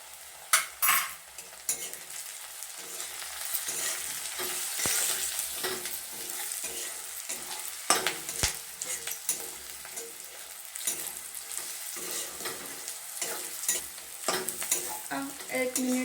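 Masala with chili powder fries in a pan over medium flame, a steady close sizzle broken by frequent scraping and clinking stir strokes throughout, with no voices.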